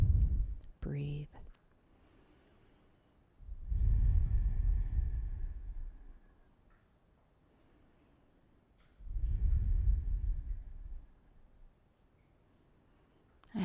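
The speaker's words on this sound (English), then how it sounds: "Breathe." Slow deep breaths during a yoga stretch for golfers, two long airy exhalations a few seconds apart, close and soft with quiet pauses between them.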